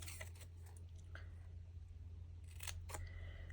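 Scissors making short snips into paper for a card-making craft, a few faint clipped cuts over steady background hum, with a quick cluster of snips toward the end.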